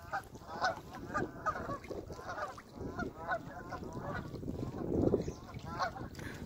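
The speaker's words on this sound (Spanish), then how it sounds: "Allá andan los patos." Distant flock of ducks calling in Easton, Maryland, overlapping quacks and honks in a steady chorus, faint and outdoors with a low rumble of background noise.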